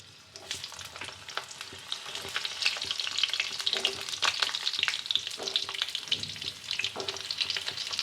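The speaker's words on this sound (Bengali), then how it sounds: "প্রথমে কড়াইতে তেল দিয়েছি, তেলটা গরম হয়ে গেছে, তখন একটু কালো জিরে ফোড়ন দিলাম, দিয়ে এইবার আমি পটলগুলোকে আস্তে আস্তে ছাড়ছি" Pointed gourds (potol) dropped into hot oil with nigella seeds, a dense, loud crackling sizzle that builds and stays constant, with occasional clinks and stirring sounds.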